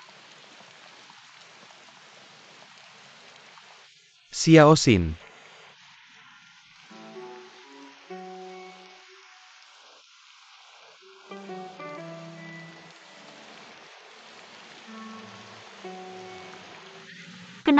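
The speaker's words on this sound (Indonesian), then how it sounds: "Hujan begitu deras." Heavy rain falls steadily in the background throughout, broken by a brief loud burst near the start, while a few words of speech and some tonal sounds come in over it.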